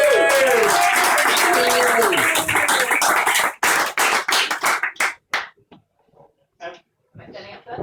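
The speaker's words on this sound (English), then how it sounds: "can I have a massive round of applause for this young lady over here?" An audience at an Edinburgh comedy club gives a young woman a round of applause, loud dense clapping with whoops that thins out after a few seconds into scattered claps and brief talk.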